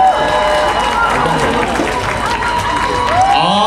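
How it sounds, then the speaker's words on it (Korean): A large outdoor crowd applauds and cheers steadily at a Korean army ground forces festival concert, a dense, loud wash of clapping and shouts that carries on throughout, with a voice speaking over it. "네 박수 감사합니다"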